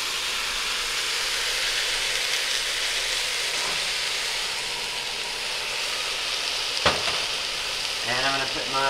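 Chorizo fries in a pan with a steady, dense sizzle and hiss, stirred now and then, and a brief voice near the end.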